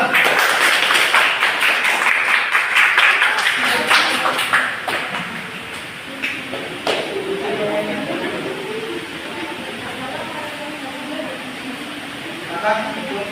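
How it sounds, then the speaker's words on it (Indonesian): A classroom audience claps for a presenting group, a dense burst of applause for about five seconds that thins into scattered claps over room murmur. "Ayo tepuk tangan."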